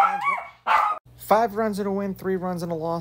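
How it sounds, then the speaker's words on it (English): A dog barks and yips repeatedly in the background of a room while someone talks steadily over it about baseball betting. "I apologize for the blabbermouth dog in the background"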